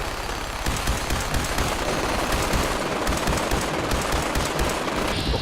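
Sustained rapid automatic gunfire in the Fallout 4 video game, aimed at a vertibird, loud and continuous with dense rattling bursts and no talking.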